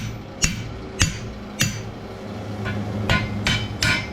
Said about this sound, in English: I'm just taking a drift, widen that hole up, and we'll get a thicker